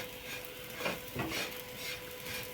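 A utensil stirs and scrapes inside a pot in short, uneven strokes, close by, while making Dubai chocolate, with a faint sizzle underneath and no talking.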